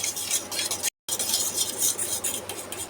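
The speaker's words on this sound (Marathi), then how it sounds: "या ठिकाणी मी काटे चमचा घेतला आहे आणि याने हे आपल्याला फिरवायचं आहे" Egg yolks being beaten with a fork in a bowl for egg paneer, giving a quick, continuous rhythmic clatter and swish of metal against the dish, close up, with a brief gap near the start.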